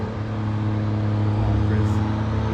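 At a callout drag racing challenge, a race car on a dyno holds a loud, steady, close engine drone as its tires spin, with a deep low hum throughout.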